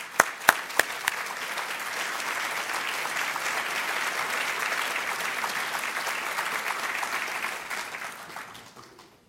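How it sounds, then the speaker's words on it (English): A college audience applauds to welcome new faculty at a State of the College address, a few sharp early claps swelling into sustained, even applause from a large room before tapering off at the end. "we could just welcome you with a round of applause"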